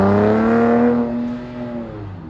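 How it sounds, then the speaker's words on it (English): A 2021 Dodge Durango with a non-Hemi six-cylinder and Borla S-type mufflers revs loudly up close, then the exhaust note falls away and settles into a steady lower drone. "This is a 6-cylinder. It's not a Hemi. Those are the Borla S type mufflers."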